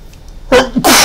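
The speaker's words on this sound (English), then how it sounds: "Sorry, I had to get the sneeze out." A single loud, close human sneeze in two bursts: a short sharp intake followed by a forceful explosive release, heard alone in a quiet room.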